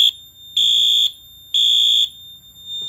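A Notifier AFP-400 fire alarm system's 75 candela horn strobe, set off from a pull station, sounds two loud, steady electronic tone blasts about a second apart, with quiet gaps between.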